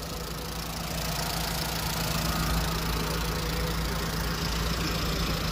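A used car's engine, fitted with methane gas equipment and noted for an abnormal noise, idles at a used-car market in Denov, giving a steady, continuous drone with a dense mechanical rattle and no break.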